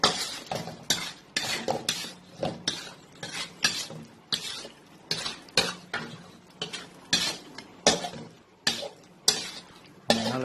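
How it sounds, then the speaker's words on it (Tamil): A spoon scrapes and clinks steadily against a pan while chicken thokku with pepper powder is stirred, repeated close rhythmic strokes about once per second with a faint sizzle beneath. "மிளகுத்தூள் போட்டு கொஞ்சம் மிக்ஸ் பண்ணி விடலாம்."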